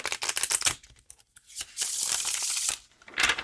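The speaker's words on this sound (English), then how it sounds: "Let's give it several riffles, eh?" Oracle cards on US Games cardstock are riffle shuffled, giving quick fluttering bursts close up, then a longer steady riffle, then another short burst.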